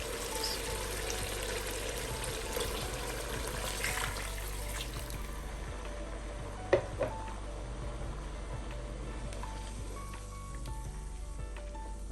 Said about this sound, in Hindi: अब इसमें ऐड करेंगे 1 लीटर पानी